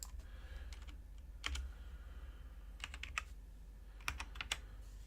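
Typing on a computer keyboard while entering card listings, with short bursts of clicky keystrokes in several clusters over a low steady background hum, close and fairly quiet.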